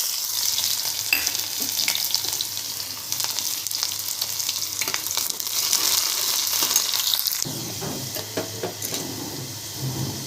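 Onions sizzle in hot oil with mustard seeds and cumin, a constant crackle broken by scraping stirs from a utensil in the pan, until the onion browns.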